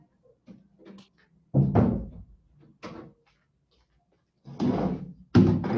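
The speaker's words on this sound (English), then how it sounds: "Close the door quickly" Indoor door sounds in a classroom: a few thuds and bangs of a door being closed, separated by short quiet gaps, with no talking.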